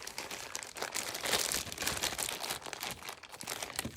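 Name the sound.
handling paper envelopes from a thrift haul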